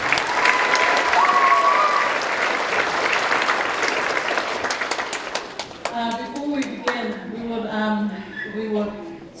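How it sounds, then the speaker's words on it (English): Loud crowd applause for children competing at the Tamaiti Pasifika school performance opening, dense clapping fading after about six seconds as an adult begins speaking over the tail. "can we please give a round of applause for everyone who's competing today?"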